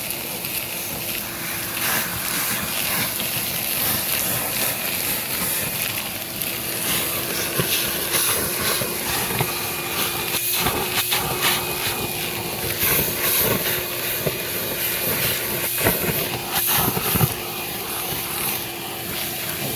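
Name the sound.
wet dry vac sucking up mud around a broken pipe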